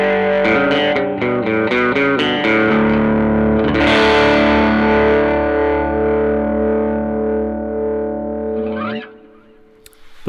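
An electric guitar runs through Neural DSP Quad Cortex drive effects, with distorted, chorus-tinged chords. A choppy rhythmic passage swells into a long sustained chord that rings out before a final squealing slide.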